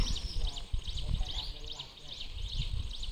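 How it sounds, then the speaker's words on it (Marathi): Birds chirp near village fields and homes in a rural hamlet, with quick, repeated high twitters running throughout over a low outdoor rumble and faint handling noise. "पक्ष्यांचा मस्तपैकी किलबिलट आहे"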